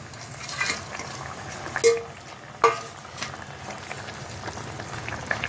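Small khalse fish go into a thin, simmering eggplant curry in a pot, with soft bubbling, a few sharp utensil clinks against the pan, and gentle stirring.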